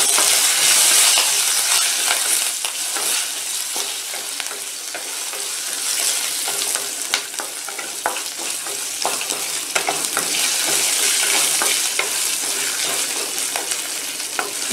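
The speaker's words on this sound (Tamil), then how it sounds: "இப்போ வெங்காயம் லேசாக வதங்கிடுச்சு" Onions sauté in a pan with a pinch of asafoetida, a loud dense sizzle that runs the whole time, with frequent stirring scrapes and light clinks close by.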